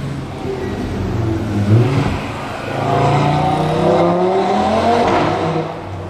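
A Ferrari engine approaches from a distance, its revving growl rising in loudness and pitch as it nears, then fading slightly.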